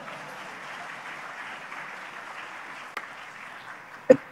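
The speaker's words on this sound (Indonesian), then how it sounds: "Jadi, silakan tepuk tangan." An audience at a talk in Bandung claps in a soft, distant ripple of applause at low level, with a couple of sharper isolated claps near the end.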